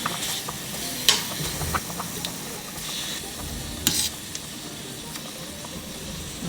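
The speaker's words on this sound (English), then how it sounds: "so now we're gonna add our lobster, or all of our seafood basically" Lobster and other seafood frying fast in melted unsalted butter, a steady soft sizzle with a few sharp stirring clatters from the pan, no voices.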